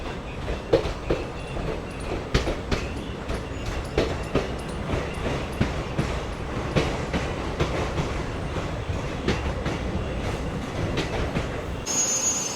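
Hydrogen-powered passenger train pulling into platform 1 at Gohana Junction on the Sonipat–Jind line, with steady rolling rumble, rhythmic wheel clicks and faint brake squeal throughout, no talking.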